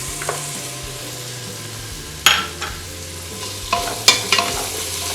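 Green chilies sizzle in ghee in a pan for coconut-milk ghee rice, a steady crackling fry broken by several sharp stirring clanks and scrapes.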